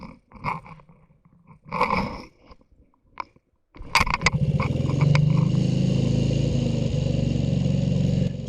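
Soft scraping clicks of a hand oil pump on a 1924 BSA Roundtank motorcycle come first, then the engine bursts into life and settles into a loud, steady close-up idle.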